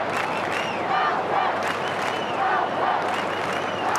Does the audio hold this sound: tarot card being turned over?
no